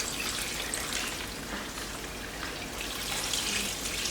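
Liquid being poured slowly while making a lard pie crust, a soft continuous trickle and patter with faint splashy texture, fairly quiet and unbroken.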